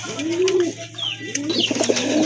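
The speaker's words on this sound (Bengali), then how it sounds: "এক জোড়া আমেরিকান লক্ষা কবুতর খুবই চমৎকার" A pair of American Lakha pigeons coo softly and close by, a few low rolling calls over about two seconds with faint background noise.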